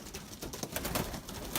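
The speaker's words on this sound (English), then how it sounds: "that looks like quite a lot of pigeons" Pigeons cooing around a loft of young racing birds, soft layered calls mixed with faint patter and breezy outdoor noise, fairly quiet and continuous.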